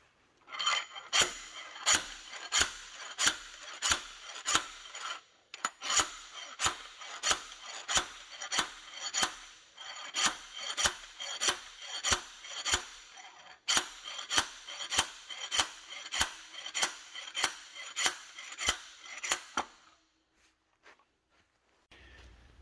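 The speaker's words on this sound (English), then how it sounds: "we should be free to start slide hammering and seeing if that wants to move out of there." A slide hammer works on the crankshaft of a Caterpillar RD-4 engine during disassembly. It makes sharp metallic strikes in steady runs of roughly two per second, broken by short pauses, then stops near the end and leaves a few faint clinks.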